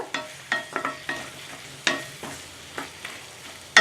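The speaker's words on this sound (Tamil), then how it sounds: "இப்போ இது எல்லாமே சேர்ந்து நல்லா வதங்கட்டும் லைட்டாக" Onions and tomatoes sautéing in a pan for paneer butter masala, with a steady soft sizzle and several sharp spoon scrapes and knocks against the pan at irregular intervals, close and moderately loud.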